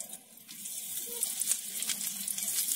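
Chillies frying in a teaspoon of mustard oil for Bihari litti chokha, giving a steady, fairly loud hiss and crackle that holds through without a break and without talk.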